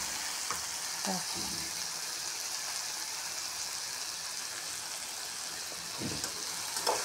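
Soft, constant hiss of cluster beans cooking in oil, close by, with a couple of brief low knocks or stirring sounds and no talking.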